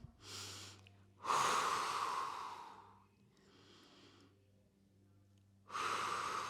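A person breathing deeply through a yoga exercise: a strong, close inhale is followed by a long, audible exhale, then a softer stretch of breath and another sharp inhale, all without talking.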